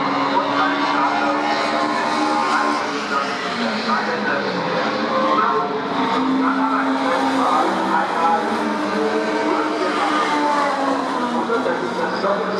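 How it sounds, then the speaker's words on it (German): Classic touring cars race at Hockenheim during the 2018 DTM Tourenwagen Classics, their engines producing a continuous loud, dense roar throughout, with possible talk mixed in. "Das ist das Doppelsieger-Auto von vor 30 Jahren"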